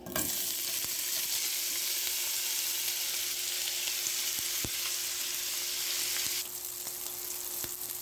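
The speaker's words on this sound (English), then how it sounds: "Now that we got our pan over medium-high heat with olive oil in it, we're going to put our sausage in." Sausage sizzles and fries in olive oil in a pan over medium-high heat for a Cajun sausage skillet, a loud, steady crackling hiss that runs the whole time with a few sharp pops and no voices.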